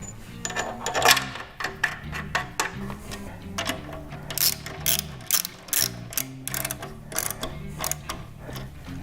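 A hand ratchet tightens BMW brake caliper hardware, giving close, crisp clicking runs of pawl ticks in short repeated strokes with brief pauses between them.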